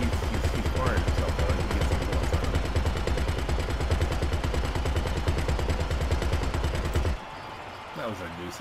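An opponent in GTA fires a nonstop stream of rapid gunfire, loud and dense, that cuts out abruptly near the end and leaves quieter game sound.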